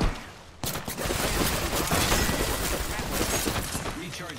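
Heavy gunfire in the battle royale shooter Apex Legends, a dense, loud, continuous spray of rapid shots after a brief lull, with players talking over it.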